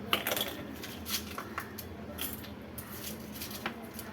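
Ice cubes drop into a bowl for homemade mango drink, giving a scattered run of hard clinks and clatters, several close knocks early and lighter taps later, fairly quiet overall.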